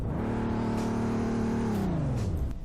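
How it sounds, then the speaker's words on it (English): A turbocharged car in the Roblox game Greenville revs to its limiter around 4,500 rpm, holding a loud steady pitch before sliding down, with a faint turbo whine above and no talking. "you can kind of hear the turbo"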